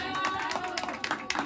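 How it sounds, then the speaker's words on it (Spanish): Applause from guests at a birthday celebration with a mariachi band, sparse and uneven hand claps that swell and fade over a brief stretch, with voices audible underneath. "fuerte el aplauso para la reina de esta noche"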